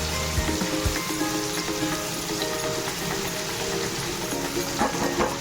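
Ginger, chilli and tomato sizzle and crackle in hot oil in a pan while being stirred for paneer tarka, a steady spattering hiss with occasional scraping clicks.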